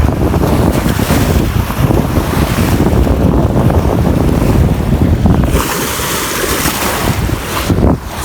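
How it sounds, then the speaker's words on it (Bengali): Big river waves surge and break at a riverbank during high tide, with strong wind buffeting the microphone; loud, continuous rushing water that eases slightly near the end, with no voices. "কি বড় বড় ঢেউ আসছে একদম"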